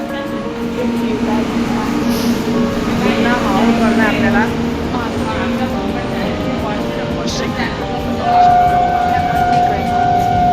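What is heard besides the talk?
train arriving at station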